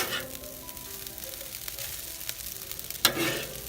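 Fried rice sizzles on an outdoor griddle, a steady crackling hiss with light scraping stirs and a sharper clatter near the end, no talk.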